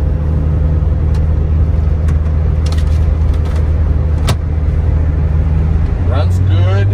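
A supercharged 1990 Subaru Sambar Dias II AWD kei van idles with a steady, close engine drone, then the revs rise briefly near the end.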